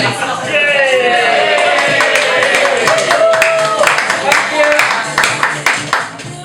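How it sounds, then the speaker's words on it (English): Audience clapping and cheering for the host at a comedy night in a coffee shop, a loud, dense round of applause sustained throughout with crowd voices mixed in. "put your hands together for your host"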